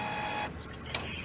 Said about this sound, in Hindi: ये नॉर्मल प्रिंटर की आवाज़ है